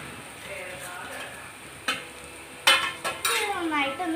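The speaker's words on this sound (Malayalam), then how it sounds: "നന്നായിട്ടൊന്ന് ഇളക്കി കൊടുക്കാം" Masala spices being stirred into chicken curry in a pan: a quiet simmer broken by several scraping spoon strokes and metallic clinks against the pan, growing busier toward the end.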